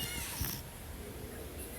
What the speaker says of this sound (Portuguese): Tá chamando meu gato pra fazer...